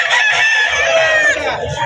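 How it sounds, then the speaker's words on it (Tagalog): A loud, close stag rooster crow fills the whole moment, harsh and strained, with a bit of background noise underneath. "Mga manok naman ni Boss Dennis mga ito"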